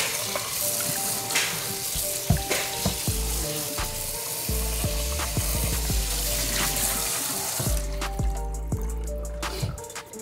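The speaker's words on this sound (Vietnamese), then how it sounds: "bây giờ mình phải rửa đôi giày này cho nó hết sạch cà phê ra" Coffee-dyed Jordan 1 sneakers are washed under running water, a loud steady splashing rush with thumps and knocks of handling, close by, easing off near the end, no speech.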